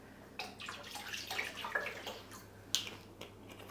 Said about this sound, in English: Now I'm going to pour some of our bath oil into it to show you what happens.